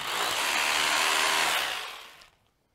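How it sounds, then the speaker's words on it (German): A power drill driving an insulation dowel into an interior wall, a loud high-pitched whine held steady for about two seconds before it winds down and stops. No one speaks. "Hier nehmen wir den Dübel nochmal raus und setzen die Bohrmaschine nochmal locker an."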